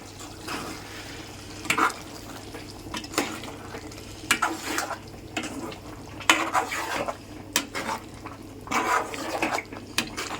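Chicken liver curry with ulavakayalu being stirred in a metal pan, a spoon scraping and clinking in irregular strokes over a low cooking sizzle, close and fairly quiet, with no talking.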